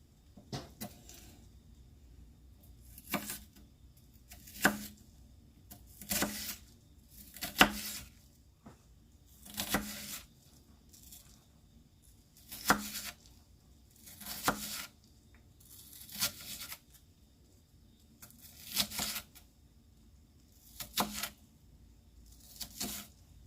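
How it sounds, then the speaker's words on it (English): Kitchen knife chopping an onion on a board, a series of about a dozen crisp, separate cuts spaced roughly two seconds apart, close and fairly quiet, no talking. "I'm just going to run my knife through it again just to chop it down even more."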